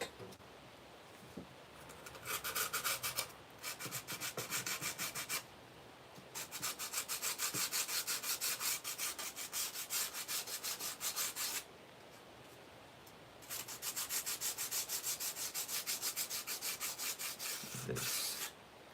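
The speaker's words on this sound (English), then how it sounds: "Folding up some sandpaper here. So I can, you know, smooth out the ship." Folded sandpaper rubbed by hand over a wooden model ship, fast rhythmic scratchy back-and-forth strokes in three long close bursts separated by short pauses, fairly quiet.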